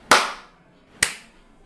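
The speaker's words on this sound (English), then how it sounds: "Everybody clap at one time." Two sharp, loud, unified claps from a group of people clapping together at once, about a second apart, each with a short ringing decay in a quiet room.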